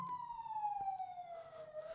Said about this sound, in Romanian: vine ambulanța să mă ia